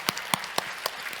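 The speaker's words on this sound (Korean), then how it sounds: "우리 아이들 좀 축복하면서 박수 한번 했으면 좋겠어요" A church congregation at a retreat Sunday service claps, with a handful of distinct, fairly sparse claps in a loose rhythm over just over a second, moderately near, no speech.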